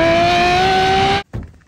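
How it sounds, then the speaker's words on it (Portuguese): Ferrari F12 tdf with a full Novitec exhaust giving a short, loud high-pitched rev that cuts off abruptly, followed by a brief lower burble. "pra vocês entenderem que o cold start foi alto, né? Escape full Novitec"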